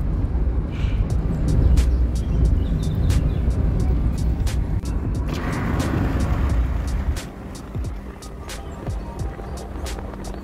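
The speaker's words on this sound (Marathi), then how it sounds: "समृद्धी महामार्गावरती टोचन करून चालली आहे गाडी" A car under tow rolls along the Samruddhi expressway, giving a steady, loud road and engine rumble with rushing wind that eases slightly near the end.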